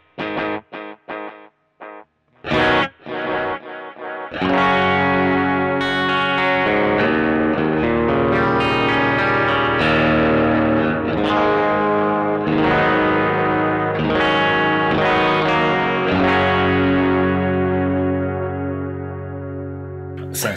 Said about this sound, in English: So right now I have this set to an echo rec, and I have a dotted eighth on one side and quarter notes on the other.